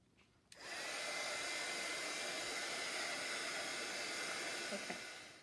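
A hair dryer switches on and runs as a steady, loud, close-up whoosh while drying a clear-scrap holiday papercraft project. It holds an even blowing hiss for several seconds, then begins to wind down.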